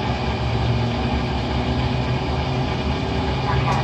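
Boeing 747 engine number four spooling up in a flight simulator, a loud, steady low rumble and whine holding constant.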